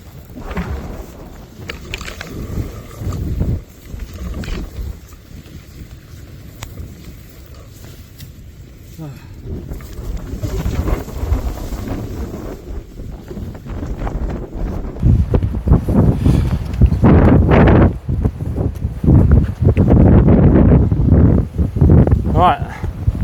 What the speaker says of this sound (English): It's very windy, but it's not as windy as down on the cliff.